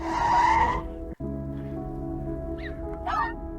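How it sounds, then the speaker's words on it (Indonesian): Car tires skidding and squealing on a road as the car hits a woman in a film, a loud screech in the opening second that cuts off abruptly, followed by a low steady hum and faint sounds. "ibu Akira yang melihat Shiro ke tengah jalan dan akan tertabrak mobil pun dia langsung menyelamatkan Shiro"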